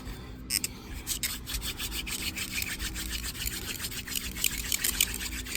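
Wooden hand drill spindle spun between the palms against a fireboard to make a friction fire, giving a fast, steady, rhythmic scratchy rubbing that pulses with each stroke, close and continuous with no talking.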